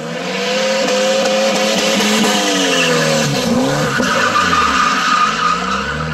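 A Volvo fitted with a 1JZ engine drifts with tyres squealing and skidding continuously, the engine revving loudly underneath in a sustained, close roar.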